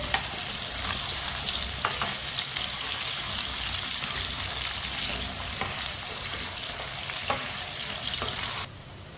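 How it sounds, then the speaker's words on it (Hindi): Thick-cut potato pieces frying in a pan for aloo palak, a loud unbroken sizzle with occasional stirring clicks that drops abruptly in level near the end. "आलूओं को 3-4 मिनट के लिए फ्राई कर लेंगे।"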